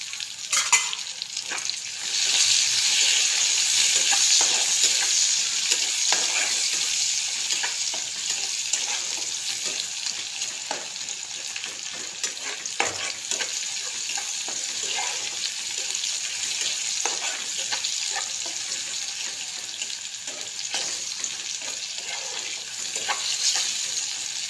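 Half-cut tomatoes hit hot oil with cumin in a pan while cooking suran, giving a loud, continuous sizzle and crackle with occasional stirring scrapes, alone without talk.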